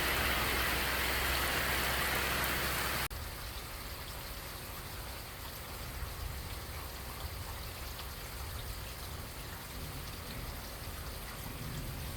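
Steady rain falls outside on a stormy day with distant thunder, a dense even hiss of drops that is louder for the first few seconds and then continues more softly, with no voices.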